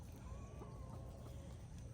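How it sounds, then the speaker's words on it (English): Hens cluck softly and sporadically on a homestead alongside ducks, over a steady outdoor background hum, fairly distant and low in level. "The chickens and the ducks are there."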